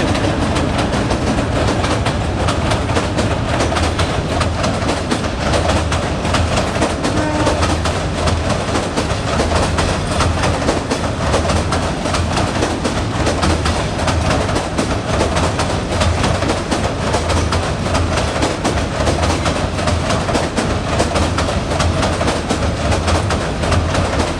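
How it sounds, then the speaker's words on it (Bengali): An intercity train crosses a rail bridge over a river between Mymensingh and Gazipur on a foggy morning, its loud, continuous rumble and clatter of wheels filling the whole stretch close by. "কুয়াশাচ্ছন্ন সময়ে বেলা এগারোটা একটি আন্তনগর ট্রেন ময়মনসিংহ থেকে গাজীপুর জেলায় প্রবেশ করছে"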